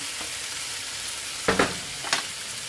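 Shrimp, salmon and snow crab cooking on medium-high heat, a steady soft frying hiss with a couple of brief scraping clatters near the end.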